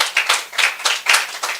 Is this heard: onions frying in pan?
no